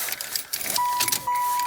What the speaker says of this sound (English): Now what I'm going to do is actually put the keys back in it.